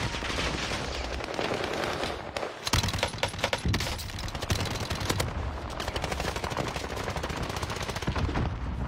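Rapid bursts of video game gunfire crackle continuously and loudly, with sustained automatic fire and a brief lull near the middle, while a busy game soundscape plays underneath.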